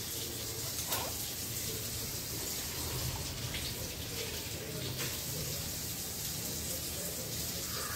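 Kokum water is poured and strained into a pot while making solkadhi, a steady close trickling splash of liquid continuing for several seconds.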